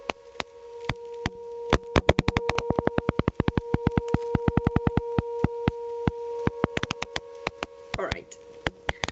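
Rapid, crisp pops from pulse-type electric fish crackle in quick bursts over a faint steady hum, sometimes speeding into dense trains, then thinning out.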